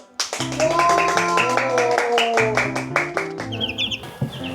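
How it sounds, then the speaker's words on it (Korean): Children at a small rural school in Jeongseon clap in a quick, even rhythm while young voices chant along, the claps sharp and close, fading out near the end. "박수!"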